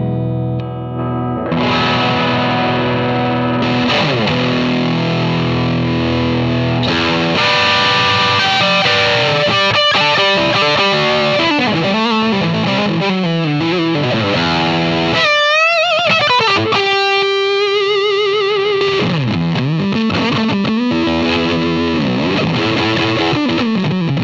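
A Reverend Bob Balch signature electric guitar on the neck pickup through heavy distortion, playing sustained chords and fast riffs with bends and slides, loud and continuous throughout.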